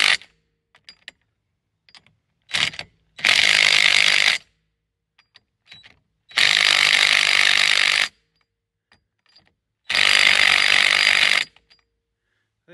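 A loud power tool tightens ATV wheel lug nuts on a CFORCE 500, three long close bursts of whirring and hammering separated by quiet gaps with small clicks.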